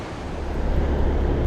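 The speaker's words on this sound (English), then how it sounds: "It's really stormy now." Steady, roaring stormy wind buffets the microphone with a dense, rumbling rush, loud and continuous, with no voices, in the Vietnamese highlands at Dak Mil.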